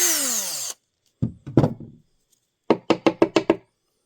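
Short bursts of a drill boring a pilot hole in wood with a small bit, first a few separate pulses, then a quick run of six rhythmic grinding bursts, close and fairly loud.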